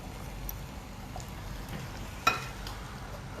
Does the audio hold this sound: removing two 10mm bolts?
no